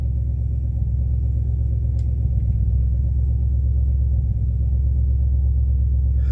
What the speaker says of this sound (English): It's starting to misfire right now.